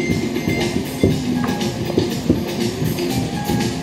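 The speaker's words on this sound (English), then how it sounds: "We're taking the train to Rafiki's Planet Watch." Train ride at Disney's Animal Kingdom heading to Rafiki's Planet Watch on a humid day, with a steady rumble of rail cars and irregular clanks and clicks throughout, close and continuous.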